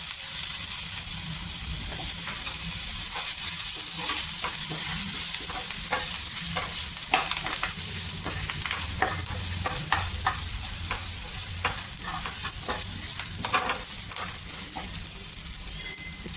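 Curry leaves and tomatoes frying together in a pan for a brinjal-potato curry, giving a loud constant hiss of oil with repeated irregular spatula scrapes and stirring clicks throughout.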